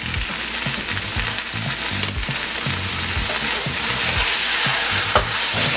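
Chopped green onion hitting a hot pan of Pad Thai noodles, a steady loud sizzle and frying crackle with scraping stirs and clanks of the utensil against the pan.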